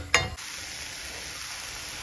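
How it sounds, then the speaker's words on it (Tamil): Masala sautés in a pan for ivy gourd gravy, opening with a short sharp clink of stirring, then a steady soft sizzle that continues on its own. "இது கொஞ்ச நேரம் அப்படியே வதங்கட்டும்."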